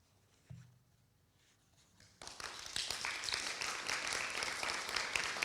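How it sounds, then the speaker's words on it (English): An audience at a poetry reading bursts into applause after a poem, starting after a quiet pause with a small knock, then sustained steady clapping filling the room. "It's very nice that you're clapping between each poem"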